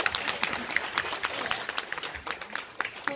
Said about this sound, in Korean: 다시 한번 박수 크게 주세요